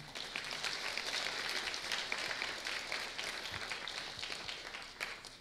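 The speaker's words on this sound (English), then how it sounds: "let's give our MC a round of applause, Calvin." An audience at a university thesis symposium finale applauds the MC, a steady, even round of clapping throughout with no one speaking.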